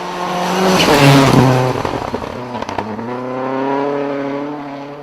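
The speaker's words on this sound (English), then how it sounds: "Watch how this car carries the speed through these corners." A rally car in the Scottish Rally Championship speeds through corners, loud and close. Its engine rises, pops and crackles on the overrun, then revs up through the gears again as it pulls away, with no talking.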